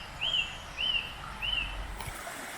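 Small birds chirp beside a stream on a Swiss mountain hike, giving three clear, evenly spaced high calls over a soft, constant water rush, with a faint knock near the end.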